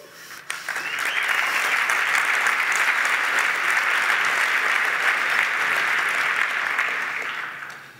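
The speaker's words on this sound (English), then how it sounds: "Thank you for the applause." A conference audience applauds at the end of a technical talk, a dense, steady wash of clapping that swells quickly and holds for several seconds before fading.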